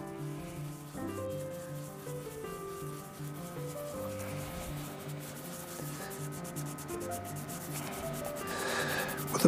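Base of a boar shaving brush knot scrubbed with coarse grit, a quiet continuous gritty rubbing up close under faint background music.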